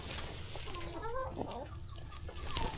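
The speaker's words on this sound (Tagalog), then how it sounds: "Nangingitlog na yung isang inahin na yan mga karoday oh." A laying hen on a backyard farm clucks in short, soft, repeated calls against a steady outdoor background hiss, faint and somewhat distant, with no talking.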